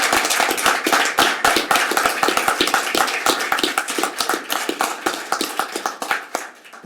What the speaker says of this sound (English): Why don't you guys give him a round of applause?